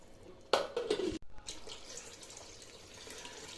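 Water poured from a vessel into a cooking pot to rinse out leftover masala for Karnataka-style tomato bath, a short splashing pour of about a second followed by quieter dripping and trickling.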